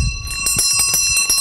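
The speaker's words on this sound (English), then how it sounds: "That's the Stromer bell." A Stromer ST7 e-bike bell rings in a quick series of bright metallic dings, several rapid strikes with a ringing sustained tone, close and clear with no speech.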